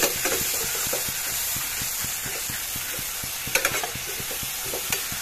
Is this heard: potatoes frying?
yes